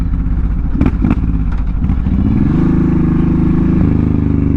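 A Honda VTX1800 cruiser motorcycle on a highway ride, its big engine rumbling loud and close with a brief clattering rise before settling into a steady, deep drone.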